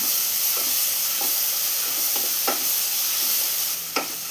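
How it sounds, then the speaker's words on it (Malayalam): Chopped tomatoes being sautéed in a pan for a chicken curry, a loud, continuous close sizzle with occasional soft stirring scrapes, no voices. "തക്കാളി ഇനി നന്നായി തന്നെ ഒന്ന് വഴറ്റിയെടുക്കണം."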